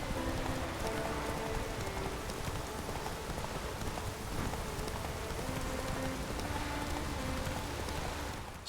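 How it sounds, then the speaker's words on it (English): Steady rain falls in The Witcher 3, a continuous close hiss of drops on surfaces through the whole stretch, with faint clip-clop hints in the background and no talk. "Oh, raining again."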